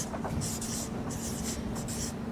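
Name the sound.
writing on a board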